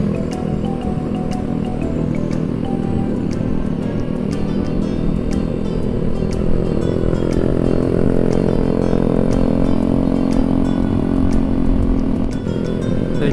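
A motorcycle engine runs steadily for the whole stretch during a Sunday group ride in Yogyakarta heading to a tea plantation in Kulon Progo, loud and close with a constant droning rumble and no talking.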